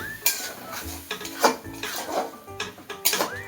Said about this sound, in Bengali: এবার নেড়ে ছেড়ে ভালো করে কষাতে হবে